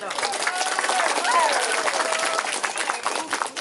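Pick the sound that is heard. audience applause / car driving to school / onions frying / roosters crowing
audience applause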